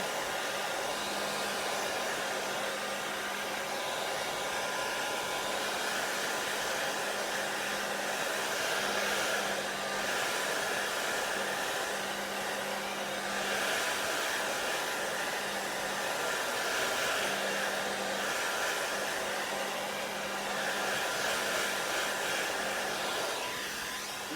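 A hair dryer blows steadily for about twenty-four seconds, drying chalk paste on a painted vintage truck design. The motor's whine and airflow stay close and constant, with slight dips in pitch as it is moved.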